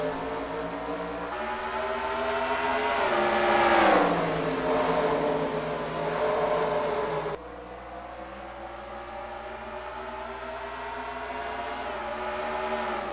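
Several race cars roar together at the start of a stock car race in a racing game at Richmond, engines rising in pitch as they accelerate, loud and sustained with a sharp cut midway, no talk over them.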